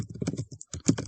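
Fingers type on a computer keyboard in a quick, close, uneven burst of clicks with a couple of brief pauses, and no voices.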